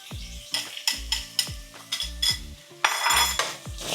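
Turmeric, coriander, seasoning salt, white pepper and chili flakes are stirred into a cooking pot with a utensil, making a series of rhythmic clanks and scrapes against the metal over a light sizzle.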